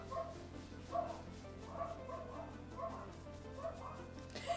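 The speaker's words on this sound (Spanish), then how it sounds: "Siento si se oye a las perras de fondo, pero están afuera en el patio" Dogs outdoors on a patio barking and yipping in repeated bursts, fairly faint and distant, with steady background hum between the barks.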